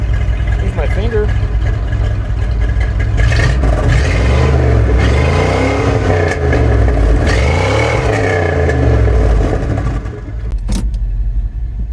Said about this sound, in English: See if I can give it a rev or two.